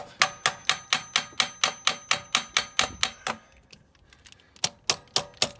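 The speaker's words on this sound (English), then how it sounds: "I'm going to use the end of my ratchet because it's soft." The end of a ratchet taps an alternator bracket into place on a 2000 Subaru Outback. About a dozen sharp, evenly spaced metallic knocks come first, then a brief pause and a few more taps, close and crisp.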